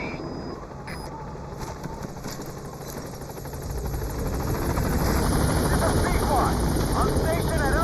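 Support helicopter B-Quad arriving at a landing zone in Metal Gear Solid V, a steady rotor drone that grows louder and nearer halfway through, with game voices talking over it.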